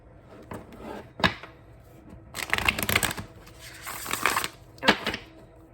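Tarot cards being shuffled by hand, several crisp riffling bursts of papery flapping and snapping with short pauses between them, close and loud with no talking.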